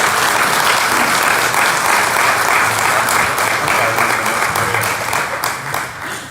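Audience in Arkansas applauding Governor Sarah Huckabee Sanders, a loud, steady wash of clapping from a crowd that holds strong for several seconds before tapering slightly at the end.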